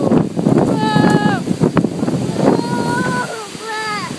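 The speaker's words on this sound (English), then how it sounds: "It's windy." Strong gusty wind roars and buffets the microphone steadily outdoors on a blustery June day, with excited children's squeals and adult voices rising over the constant rush.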